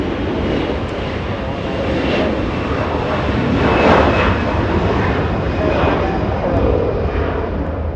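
A Qatar Airways airliner takes off at Los Angeles International Airport, its engines giving a loud, continuous roar that swells slightly midway. Voices talk faintly beneath the noise.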